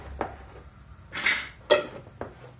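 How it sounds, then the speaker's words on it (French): Lids are set and closed on glass sterilisation jars filled with meat, giving a few quick clinks and a scraping twist, close by and quiet, with no talk. "maintenant je ferme les pots"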